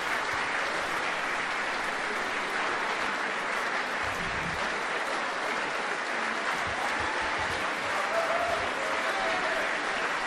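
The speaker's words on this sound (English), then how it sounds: "as the applause continues here at the National Opera House" A live opera audience at the National Opera House applauds steadily at the close of a Wexford Festival performance of Il bravo, a dense, even wash of many hands clapping that holds without a break.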